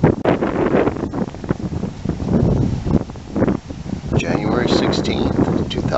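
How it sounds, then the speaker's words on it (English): Strong wind buffets the microphone on a windy morning outdoors, with loud, gusty rumbling roar that rises and falls continuously throughout. "wind's coming from the south"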